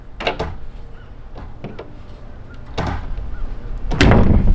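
Screen door on a box truck RV being swung and shut, several sharp clacks and taps spaced across the moment, ending in a louder rattling bang close by.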